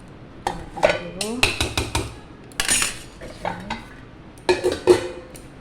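Cooked rice and fried vegetables are served onto a plate, with close, clattering utensil scrapes and clinks against the dish in irregular bursts separated by short pauses.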